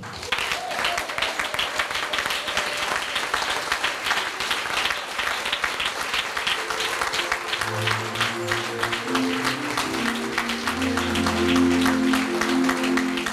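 A church congregation at a Sunday service applauding steadily, a sustained wash of clapping across the whole stretch, with music and singing rising underneath in the second half.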